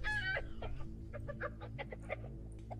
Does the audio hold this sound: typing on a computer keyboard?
no